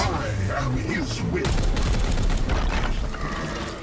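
Rapid bursts of gunfire in the turn-based tactics game Chaos Gate: Daemonhunters, dense overlapping shots with booming impacts and mechanical clatter, growing louder partway through.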